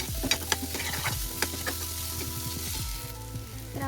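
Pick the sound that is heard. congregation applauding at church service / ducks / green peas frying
green peas frying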